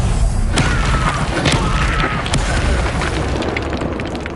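A booming Confringo fire-blast spell explodes in Hogwarts Legacy, a loud sustained rumble with crackling bursts that slowly fades over the course of the blast.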